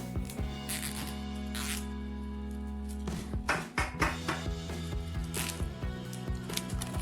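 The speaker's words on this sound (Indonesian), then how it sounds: "Ikat bundel tersebut dengan kabel tai lain agar kencang" A zip tie is pulled tight around a bundle of cut cable-tie pieces, producing rapid ratcheting zips in short close bursts, busier in the second half, with light handling rustle.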